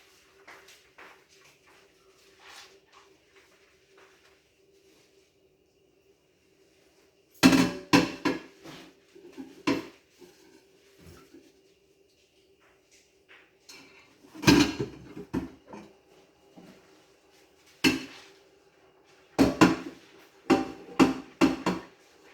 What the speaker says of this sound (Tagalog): sabunin na ang pinggan.